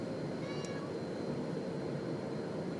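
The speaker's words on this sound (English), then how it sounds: "Yeah, she's a meower now." A cat gives a short meow inside a camper during a road trip, brief and fairly faint over a steady low background rumble.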